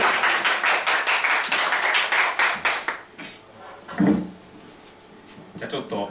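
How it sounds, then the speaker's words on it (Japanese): Applause from an audience at a PHP study meetup before lightning talks, a brisk round of clapping for about three seconds that stops abruptly, followed by quieter room noise and a voice speaking. "拍手。"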